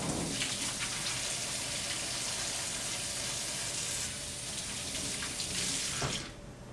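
A kitchen tap runs steadily while hands are washed after handling eggs during baking, a continuous close hiss of water with slight splashing that cuts off near the end.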